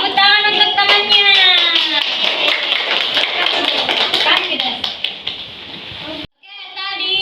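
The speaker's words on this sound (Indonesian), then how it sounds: "tepuk tangan untuk temannya" A classroom of children claps for a classmate: a dense patter of small hands fills most of the stretch, mixed with lively kids' voices and chatter, then breaks off abruptly before the noise resumes briefly.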